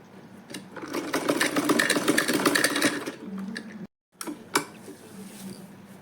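A sewing machine stitches a pocket onto a ladies' handbag in a steady close whirring run, which stops briefly before a few scattered clicks and knocks.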